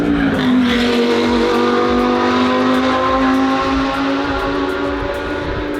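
Race cars roar past on a track, loud and continuous, with a high whining engine note holding steady. Tire squeal and sharp bursts come through over the dense roar.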